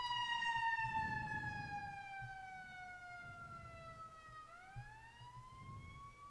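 Fire truck siren in a video game, a slow wailing tone that falls steadily then rises again, sounding distant and moderately faint over a low rumbling background, with no talk.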